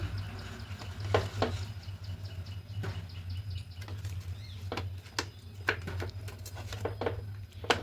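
Wet, squelchy hand-mixing of raw fish pieces coated in spices for an eggplant fish curry, with irregular soft slaps and squishes over a steady low background hum.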